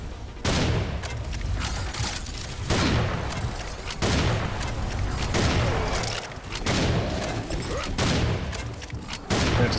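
Dense, sustained video game gunfire in Serious SamCraft, loud continuous volleys with booming blasts and rapid shots filling the whole stretch, with no talking.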